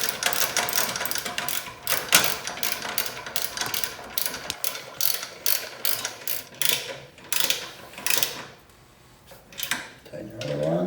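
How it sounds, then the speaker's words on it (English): Ratchet tightening bolts on the rear brake rotor of a Yamaha Raptor ATV, a close series of quick clicking bursts in irregular runs with short pauses, ending in a brief quiet gap before more clicks. "Tighten your other one up a little, and then we'll torque them."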